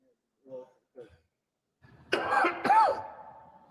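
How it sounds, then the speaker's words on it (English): Two harsh, close coughs in quick succession follow a couple of short, quiet vocal sounds, then fade into a brief rasp. "It's a cough fest"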